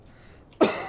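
A single short, wet cough bursts out close by, sounding thick with phlegm in the throat after a quiet moment.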